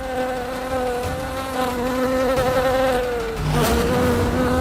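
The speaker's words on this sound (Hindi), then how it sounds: "मक्खियों का नाम लेते ही भिन भिनाने की आवाज कैसी?" Steady insect buzzing like a swarm of flies, loud and close, with several overlapping droning tones that persist without pause and shift slightly toward the end.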